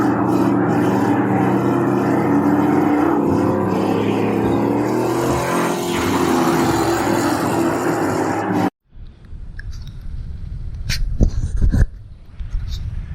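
A Chevrolet Camaro with an aluminum engine block drives steadily, its engine a loud continuous rumble for most of the stretch, then cutting off abruptly to quieter scattered knocks and thuds near the end.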